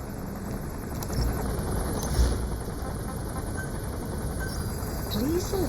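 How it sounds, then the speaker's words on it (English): Support helicopter arriving in the video game Metal Gear Solid V: The Phantom Pain, a steady loud rotor drone with a whining engine hum throughout. "Support helicopter requested."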